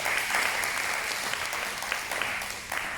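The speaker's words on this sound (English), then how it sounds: "That's worth a round of applause." Audience applause at an Australian citizenship ceremony in a school hall, a steady dense crowd clapping that holds at even loudness throughout.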